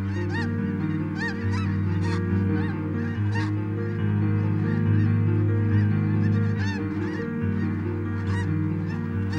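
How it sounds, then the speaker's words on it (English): A flock of wintering snow geese honks in a salt marsh, a dense overlapping chorus of calls over a steady low backdrop, loud and continuous throughout. "Snow geese arrive for the winter."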